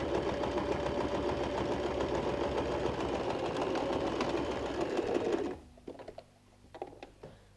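A sewing machine runs steadily for about five and a half seconds, stitching straight through fabric with a final back stitch, then stops, leaving a few faint handling clicks and taps.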